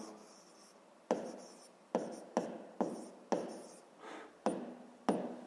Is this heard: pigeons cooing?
no